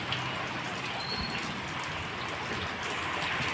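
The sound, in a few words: heavy rain falling outside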